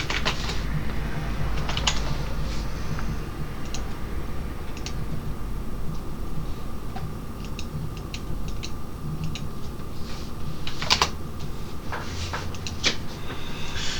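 Typing on a computer keyboard while writing a Discord.js bot command, sparse soft key clicks scattered over steady background hum, with a few quicker clustered keystrokes, no speech.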